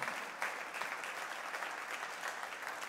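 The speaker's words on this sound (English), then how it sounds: "Let's really give him a hand clap." A church congregation gives a hand clap, a soft, steady wash of many hands heard at a distance, with no talking over it.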